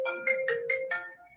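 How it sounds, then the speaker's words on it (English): A phone ringtone plays during an online meeting, five quick chiming pulses in an even rhythm, clear and fairly close with no talk over it. "Somebody's phone's ringing."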